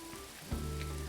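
Water spraying onto seedlings and young white tulips outdoors, a steady hissing patter like rain on a surface, joined by a low hum partway through.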